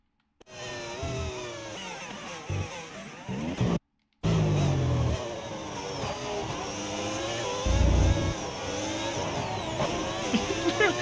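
An F1 race car in the video game F1 25, engine whining and shifting through gears with a sudden downshift and engine pitch drop under braking, a brief gap, then revving again, with a commentator talking over it.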